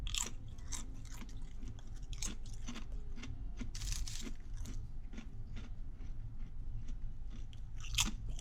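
Microwaved fat-free potato chips are bitten and chewed up close, giving repeated sharp crunches at an irregular pace that stand out clearly over a quiet background.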